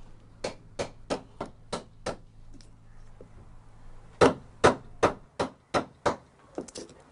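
Hammer striking a chisel into wood while carving the body of a haegeum, a traditional Korean fiddle: a run of six sharp, evenly paced knocks, a quiet pause with a faint tap, then another steady series of close, loud blows.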